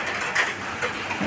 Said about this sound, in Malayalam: ഈ മഴ പെയ്യുമ്പോഴേക്കും ആ ഷീറ്റിൽ ഇങ്ങനെ കല്ല് വീണ പോലെ ഒരു സൗണ്ടാണ്